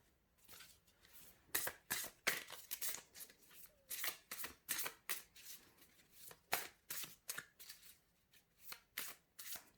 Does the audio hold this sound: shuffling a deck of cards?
yes